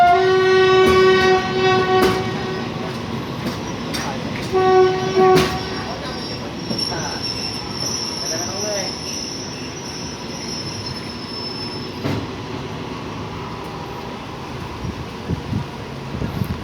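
Ordinary train 257 rumbles across the bridge over the River Kwai with a long, loud horn blast, squealing wheels and rhythmic rail clatter, with faint voices in the background.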